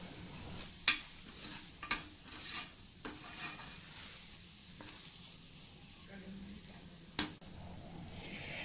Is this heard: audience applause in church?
no